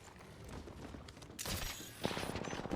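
Rapid gunfire in the video game Apex Legends, a dense burst of automatic shots under game noise that grows louder partway through and continues to the end.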